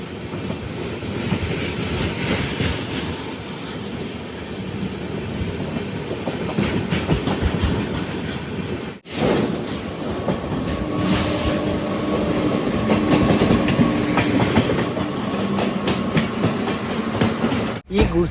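Himsagar Express rolling along the rails on its run from Kanniyakumari to Katra: steady, loud rumble with rhythmic clickety-clack and wind noise, briefly dipping midway, with no talk.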